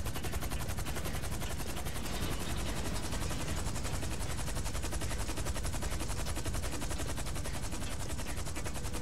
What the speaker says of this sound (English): Let me try and shoot Eddie Toe.